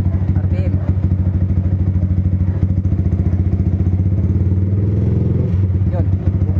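Motorcycle engine running loud and close at steady revs with a dense throbbing exhaust note and a slight rise toward the end, while people talk over it.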